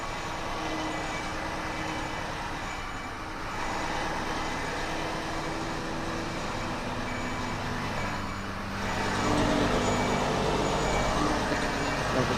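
An HGV truck reverses with its trailer: a steady, close diesel engine rumble with brief rises in revving, and no talk over it.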